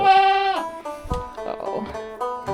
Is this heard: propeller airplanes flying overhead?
no